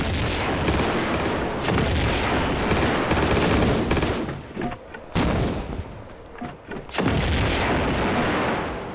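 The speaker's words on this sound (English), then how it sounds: "I'm also gonna equip my grenade launcher." Heavy booming weapon fire and blasts from a grenade launcher in the game Tomb Raider 2, set in the snowy Tibetan Foothills, loud and continuous with a few brief drops between volleys.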